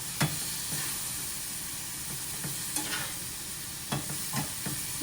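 Green beans with bacon, garlic and Italian seasoning are stirred in a hot pan, with a steady sizzle and hiss and intermittent scraping strokes of the spoon, close up. No one speaks.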